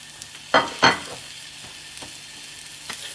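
A Morrisons beef FireCracker quarter pounder burger goes into a hot pan, with two sharp loud bursts of sizzle as it lands, then a softer steady frying hiss with faint clicks.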